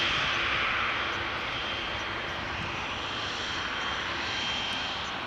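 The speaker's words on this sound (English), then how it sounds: "Shamrock going to Cork, flight 841, Airbus A320, 19 years old, first flight July 2004" Airbus A320 jet operating as Shamrock flight 841 to Cork at Amsterdam Schiphol Airport, giving a steady, fairly distant engine roar with no other sounds.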